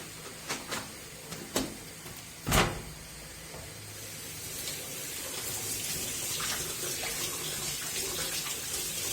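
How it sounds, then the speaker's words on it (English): Tap water runs steadily into a sink as rice is rinsed in a home kitchen during preparation of a Colombian lunch, with a few sharp knocks and clatters early on over the continuous splashing flow. "Washing the rice."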